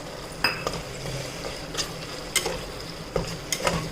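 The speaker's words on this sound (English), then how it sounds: "now you have to let it fry nicely" Mutton frying in a pan with grated coconut: steady sizzle under repeated clinks and scrapes of a spoon stirring against the pan, close and alone.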